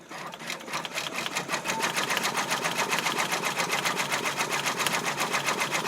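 A sewing machine stitching a hat with its stitch speed turned down to about 600. It runs steadily with a fast, even mechanical chatter, close and moderately loud, and nobody talks.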